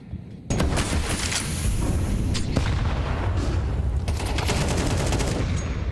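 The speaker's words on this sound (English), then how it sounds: "Wow, meaty nade, damage done." An HE grenade blast in Counter-Strike during a major tournament match, a sudden loud boom opening a dense wall of rumbling explosion and gunfire that stays loud and sustained to the end, no talk.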